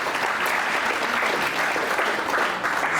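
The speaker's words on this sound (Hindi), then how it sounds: "मैं चाहूँगा कि जोरदार ताली बजाकर उनका स्वागत करें।" Steady applause from a seated audience of students and guests at an anti-drug school awareness event, loud and continuous throughout with no break.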